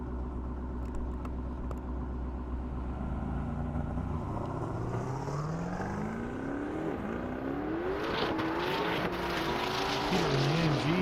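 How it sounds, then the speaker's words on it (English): A Mercedes AMG drag races down an airstrip, its engine rumbling low then climbing through rising gear pulls, loud and continuous over eleven seconds with a sharper burst near the end. "Peter in the AMG making a good run for it."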